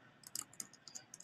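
Typing on a computer keyboard, a short burst of light, quick key clicks in an uneven patter, close but soft, with nothing else heard.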